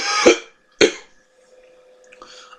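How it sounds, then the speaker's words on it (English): Two harsh, close coughs in quick succession, followed by quiet breathing and a faint throat sound. "I'm a little better, but I still have the cough"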